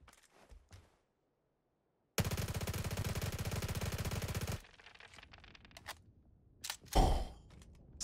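Uzi submachine gun in PUBG firing one sustained rapid burst lasting about two and a half seconds, dense and loud, framed by faint game clicks and rustles before and after.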